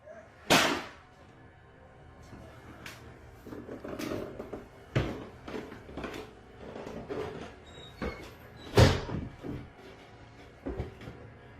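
A drawer slides slowly open and a door swings shut on its own indoors: a sharp thud near the start, then scattered creaks, knocks and clicks, and another heavy bang later, with no voices.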